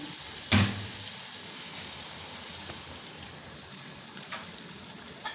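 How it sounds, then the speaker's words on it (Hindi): Taro and potatoes fry in a pan with a steady, close sizzle, broken by one loud stirring clatter near the start and a softer scrape later; no one speaks. "इसे अच्छे से भुनेंगे, फिर इसे दम पे रख देंगे।"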